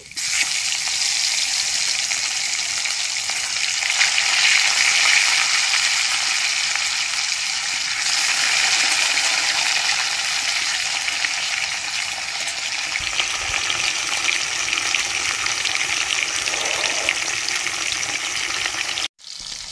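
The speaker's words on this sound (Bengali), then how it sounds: "নুন আর হলুদ মাখানো মাছগুলো আমি তেলে ছেড়ে দিচ্ছি।" Steady, loud sizzling of rohu fish pieces, coated in salt and turmeric, frying in hot oil, a continuous crackling hiss throughout that cuts off abruptly at the very end.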